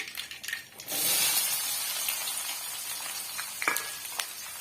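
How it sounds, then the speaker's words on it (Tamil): Mustard seeds and cumin crackle and sizzle in hot oil in a village kitchen making dried-fish curry, a steady dense frying hiss with a few sharper pops, close and alone. "நம்ம சேர்த்திருக்க கடுகு சீரகெல்லாம் வந்து நல்லா வந்து பொறிஞ்சு வருது"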